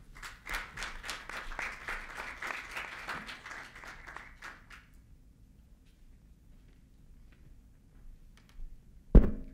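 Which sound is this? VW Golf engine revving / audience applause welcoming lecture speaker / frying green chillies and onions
audience applause welcoming lecture speaker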